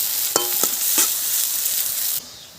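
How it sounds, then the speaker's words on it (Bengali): Thinly sliced onions fry in a pan with a steady close sizzle, broken by a few scraping stirs near the start before the sound cuts down sharply at the end. "পেঁয়াজটা ভেজে নিতে হবে।"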